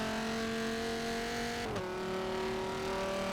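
A Koenigsegg R race car in an endurance racing video game, its engine holding a steady, fairly quiet droning tone that briefly dips and shifts pitch midway as if changing gear, with no talking.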